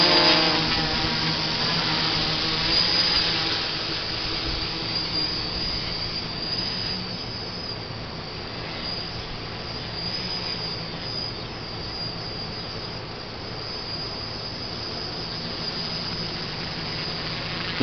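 Drone on an ATG 600 frame with new, more powerful motors flying a short test, giving a loud, continuous whining motor drone that starts strongest and then holds steady throughout.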